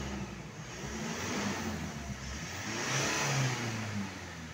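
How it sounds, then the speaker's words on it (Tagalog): A Mitsubishi Strada or Montero engine revs after a boost leak at the intercooler air hose outlet was repaired. Its steady mid-range drone swells twice, loud and close, with no talking. "I-rev ko para malaman natin kung maingay pa."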